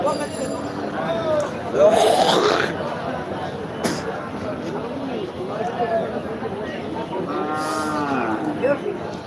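Cattle moo at a livestock market, with one long, drawn-out bellow early on and another near the end. People keep chattering and talking throughout.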